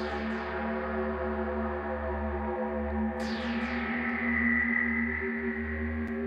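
Expanda 59 Gated Sweeper synth pad from the Action Pads bank, a sustained atmospheric tone with a low drone and a rising sweep midway that shimmers and glides, steady and unaccompanied.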